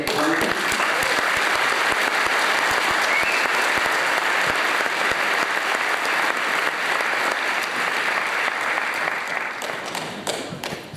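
A large audience claps steadily and loudly for several seconds, a dense continuous wash of applause that tapers slightly at the end.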